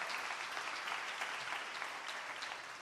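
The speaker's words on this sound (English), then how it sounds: "Let's give him a big round of applause." A church congregation gives a Brooklyn Baptist service a soft, steady round of applause, many hands clapping evenly from a distance throughout.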